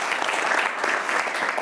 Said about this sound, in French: J'aimerais qu'on applaudisse pour ces beaux conseils.